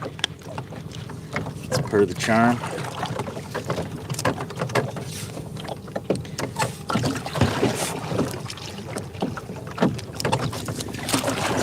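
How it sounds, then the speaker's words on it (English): Small waves lap and boats pass on Lake Nipissing, with steady wind noise buffeting the microphone throughout and someone speaking briefly near the start. "I'm getting some of that outdoor audio vibe, to including waves and other people's boats."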